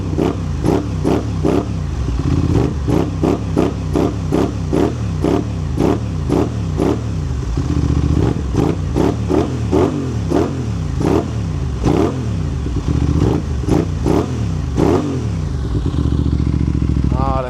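A stock, freshly warmed-up 2025 BMW S 1000 RR fitted with an SC Project exhaust, revved repeatedly while stationary out in the country, each loud, sharp blip rising and falling in quick succession close to the listener.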